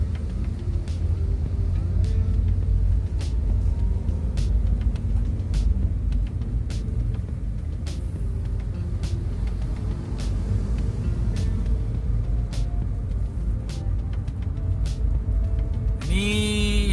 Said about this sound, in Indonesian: Seperti terlihat di depan nih mobil kontainer ya, memuat barang-barang dari perusahaan pastinya.